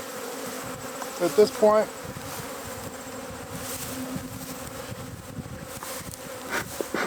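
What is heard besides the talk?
agitated honeybees buzzing at an open hive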